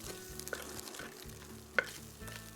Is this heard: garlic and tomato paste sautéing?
yes